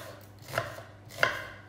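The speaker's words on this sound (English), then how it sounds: "I'm just chopping away my onion," A knife chops through an onion on a board in a home kitchen, two distinct crisp cuts spaced apart, close and clear with no talking.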